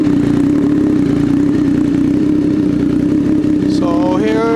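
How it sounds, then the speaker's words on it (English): A 2020 Triumph Street Triple motorcycle idles loud and close after a cold start, with a steady, even engine drone. A voice starts talking over it near the end. "So here's idling. I never warmed it up, so it's sort of a cold start."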